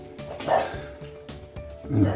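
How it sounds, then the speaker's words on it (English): Two Cocker Spaniels barking indoors at home, a few short yips and barks rising in bursts, moderately near, with a person talking over them. "Oh, dogs are barking."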